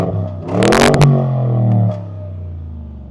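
A Bentley Bentayga Speed in comfort mode revs up sharply, its engine note climbing and then holding a steady growl before easing back to a lower idle hum, close and loud, with no crackles or pops on the lift-off.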